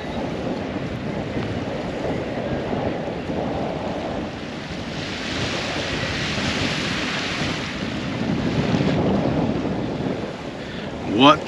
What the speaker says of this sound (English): I just need this wind to drop off a bit